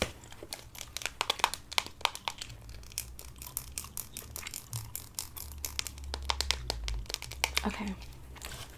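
A gum wrapper crinkles close and crisp in bursts of rustling and crumpling, with soft speech-like sounds murmuring in the background.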